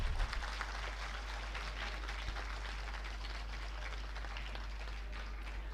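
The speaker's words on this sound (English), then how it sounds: "Can we have a big round of applause for her" An audience at a science lecture applauds, a faint, steady patter of many hands clapping at an even level over a strong low mains hum.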